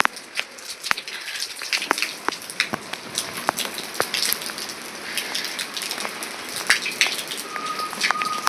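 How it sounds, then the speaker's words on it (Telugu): Heavy rain falling outdoors, a dense steady patter with scattered sharp drips and splashes close by, no voices. "ఫుల్ వర్షం పడుతుంది ఇక్కడ చూస్తుంటే"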